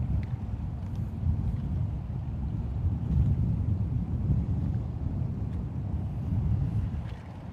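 Wind gusting over Lake Guntersville during bass fishing from a boat, a steady low rumble of wind buffeting the microphone that continues for several seconds with no talking.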